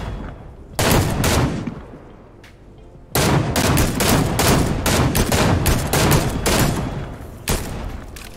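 Fortnite gunfire crackles in loud, dense volleys, a short burst early and then a long sustained stretch of rapid shots, close and alone with no talking.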